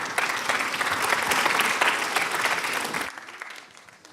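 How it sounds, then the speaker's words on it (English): An audience at the Samsung Solve For Tomorrow finalist pitch event claps in a loud, steady wave for about three seconds, then the applause drops away sharply and trails off into faint room sound. "let's give a big round of applause to Melody Hicks, who's the teacher there"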